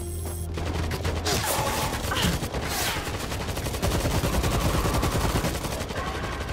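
Rapid gunfire from a World War Z zombie shooter game, dense bursts of automatic fire and fusillades running steadily and loudly throughout with no pauses.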